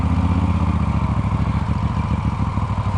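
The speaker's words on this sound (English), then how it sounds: "Riding through sand." Motorcycle riding off-road through sand on a Route 66 trip, a loud steady engine drone with fluctuating rumble and clatter, close to the microphone, no talking.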